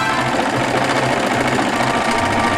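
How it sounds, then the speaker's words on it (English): Sewing machine stitching fabric for a homemade 5-gallon grow bag, giving a continuous rapid mechanical chatter, close and steady throughout, no talking. "I'm just gonna sew right down those lines to start with"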